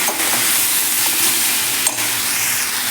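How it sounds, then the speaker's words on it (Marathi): Onion and tomato sauté in hot oil in a pan with a continuous close sizzle and hiss. A few scraping stirs break the sizzle, and no voices are heard. "कांदा टॅमॅटो हे अजून एक दोन मिनिट आपण हे छान असं परतून घेऊया"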